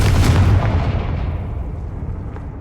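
A Confringo and Incendio spell blast in Hogwarts Legacy lands as one loud, booming explosion up close, its rumble swelling at once and then slowly fading away into a soft tail.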